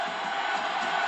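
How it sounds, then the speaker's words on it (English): A wrestling arena crowd roars in a dense, continuous wall of cheering and shouting during a match, steady and loud throughout. "Listen to the crowd. The roar of the crowd."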